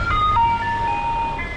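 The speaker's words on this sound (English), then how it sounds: "I think I hear an ice cream truck" An ice cream truck passes by, playing a clear, tinkling chime melody of held, sliding tones over a low road rumble. It is fairly close and loud, and no one speaks.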